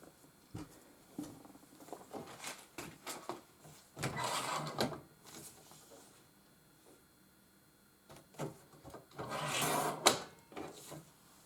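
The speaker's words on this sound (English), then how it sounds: "So I'm just going to cut this on my cutter." A paper cutter slices through card stock in two short rasping strokes a few seconds apart, close and quiet, with softer handling clicks and rustles in between.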